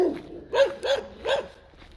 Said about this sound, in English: Those puppies are loud